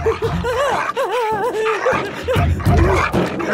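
A dog barks and yelps in a comedic Hindi-dubbed movie scene, with excited wavering yelps mixed with human cries and laughter, loud and close throughout.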